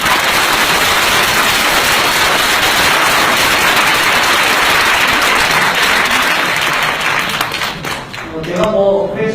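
A large audience at a 2016 lecture in Busan gives loud, sustained applause that roars for about eight seconds, then fades as a voice begins speaking at the end.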